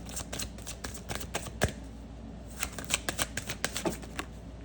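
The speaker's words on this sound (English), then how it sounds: "I'll pull a couple more cards." Tarot cards being shuffled by hand, a close, dense riffling patter with sharper flicks and snaps scattered through, over a steady low room hum.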